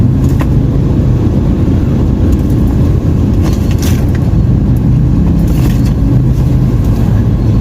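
Cars in dense road traffic near EDSA and Ortigas in Metro Manila, a loud continuous rumble of engines and tires with a few brief higher noises over it and no speech.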